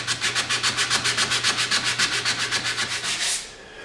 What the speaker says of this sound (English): sand this right here like that, just a little bit to get rid of that scratch pattern